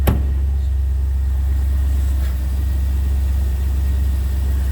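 A 1996 MG RV8 engine running steadily at idle with a deep, even rumble, close and loud, after a short sharp sound at the start.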